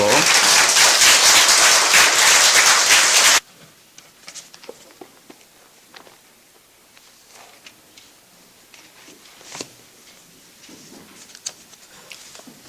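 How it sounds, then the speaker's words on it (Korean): Loud, dense applause from a church congregation for about three seconds, then it stops abruptly, leaving a quiet room with scattered small clicks and shuffles. "우리 환영하는 의미에서 박수로."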